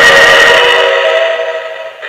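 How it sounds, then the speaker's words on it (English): Model Rio Grande train engine whistle blowing a loud, steady tone for about two seconds, fading slightly toward the end, heard alone. "love the whistle. Here it is."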